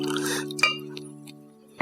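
Water is poured into a glass in a domestic drama scene: a brief liquid trickle and a light clink over sustained background music tones, with a sharper knock at the very end.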